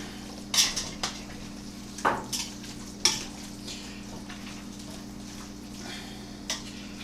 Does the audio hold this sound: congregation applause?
no